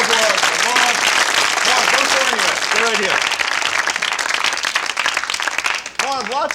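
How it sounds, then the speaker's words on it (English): Studio audience applauds a volunteer after a rope magic trick on a comedy talk show, loud continuous clapping with a voice talking over it. "So a round of applause for Marv."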